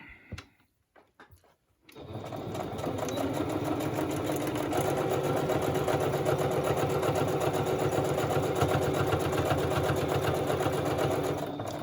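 A sewing machine runs steadily for about ten seconds, stitching a tag in place. It starts after a brief quiet stretch with a few soft handling clicks, then settles into a continuous, even mechanical whir close to the listener.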